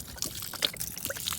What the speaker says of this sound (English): I'm just gonna pour it in here like this.